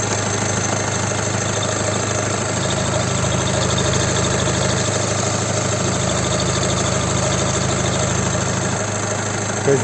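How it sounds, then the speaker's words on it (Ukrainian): A VW Touran 2.0 TDI diesel engine from 2011 idling steadily for several seconds, an even low rumble with faint rhythmic knocking, close up and continuous. "Двигун працює ідеально рівно"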